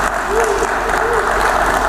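Applause from an audience welcoming a corporate executive on stage at a business event, steady and dense throughout, with faint voices mixed in.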